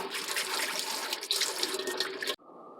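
Running tap water rinses fresh cucumbers in a Korean kitchen, a steady close splashing rush that stops abruptly, leaving a faint hum.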